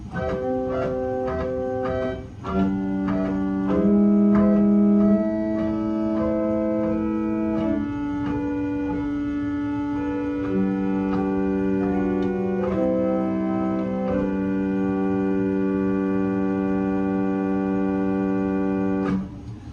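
An 8-foot salicional string stop on a pipe organ plays a slow improvisation of sustained chords and moving lines, thin and steady in tone, continuous and fairly loud, with no talking.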